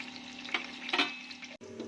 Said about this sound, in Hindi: ये मैंने सवा कप ऑयल ले लिया है और इसमें ये प्याज इसमें डाल रही है। इसको मैंने ब्राउन करना है